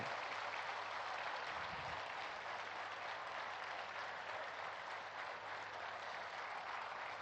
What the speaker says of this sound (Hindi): हम सब तालियों की गड़गड़ाहट कर रहे हैं।